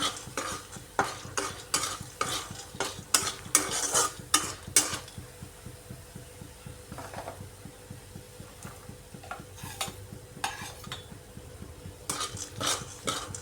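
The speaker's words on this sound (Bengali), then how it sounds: "বড়িগুলোকেও মুচমুচে করে ভাজছি।" Oil sizzles quietly as dried black gram and mung dal dumplings fry until crisp, with bursts of rapid stirring and scraping against the pan, pausing midway before resuming.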